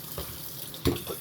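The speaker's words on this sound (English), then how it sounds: "put some water in it." Tap water pours into a glass jar holding melon seeds and pulp, a steady close rush with a short louder splash near the end.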